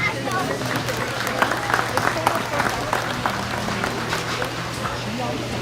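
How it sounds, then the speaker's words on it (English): Audience clapping steadily for kids showing hogs at a 2023 hog show, a dense, continuous round of applause filling the barn-like space with a steady hum underneath. "But let's give all these kids a nice round of applause."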